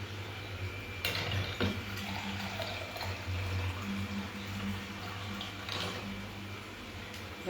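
Water runs from a tap in a home kitchen during cooking, a steady low splashing flow with a few clinks and soft background sounds.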